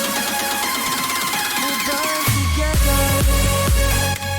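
A dense electronic buildup in a track gives way to a deep synth bass that slides downward into a heavy drop, with thumping low hits pulsing after it.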